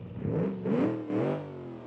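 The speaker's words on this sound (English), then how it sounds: "I'm hearing a V8. Obviously, it's a V8 car." A 60-degree V8 car engine with a single four-barrel carburetor revs in three rising surges over a steady idle, close and fairly loud, with no talking.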